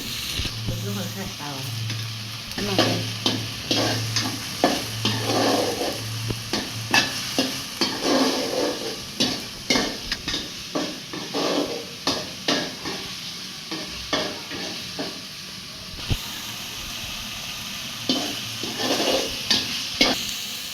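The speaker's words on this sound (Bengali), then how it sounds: "এখানে চিংড়ি মাছগুলো দিয়ে দিছে তারপর পেঁয়াজ কুচি বাকি যা ছিল তা দিয়ে দিছে" Shrimp and chopped onion fry in a pan with a steady, close sizzle, while repeated stirring scrapes and clacks make an uneven rhythm throughout; no one speaks.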